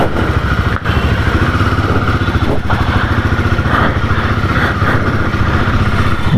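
Royal Enfield Himalayan 450 motorcycle engine running steadily as the rider sets off, a close, continuous mid-pitched drone with slight revving swells and no talk.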